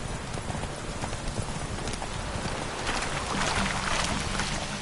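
The horse Roach gallops in The Witcher 3 video game. A steady, rapid clip-clop of hooves runs throughout over a dense, noisy background of game ambience, close and moderately loud.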